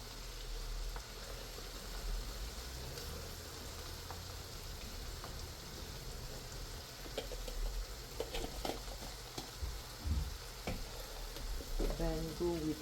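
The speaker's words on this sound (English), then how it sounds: "This has been frying for almost 10 minutes now." Steady sizzling of Nigerian jollof rice frying in a pot with white pepper, with occasional scraping and clinking of a utensil stirring it; no talking.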